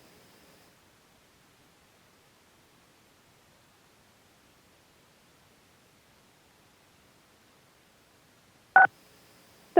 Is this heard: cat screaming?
no